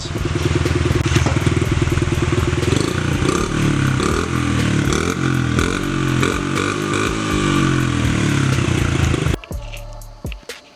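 A Honda CRF50F dirt bike recovering from fire damage runs loud and close with a rapid, rattly small-engine putter and slight revving, cutting out sharply near the end, with no talking.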